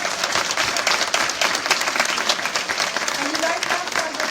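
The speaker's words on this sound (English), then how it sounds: "give the panel a big round of applause?" An audience applauds a Q&A panel of four women, with dense, moderately loud clapping that holds steady throughout, a few sharper claps standing out and a voice faintly mixed in near the end.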